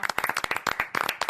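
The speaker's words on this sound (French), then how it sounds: "et on applaudit" A French studio audience breaks into applause on a radio panel show, with dense, uneven clapping in bursts that fade and swell across the moment.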